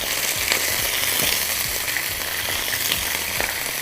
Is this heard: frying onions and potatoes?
yes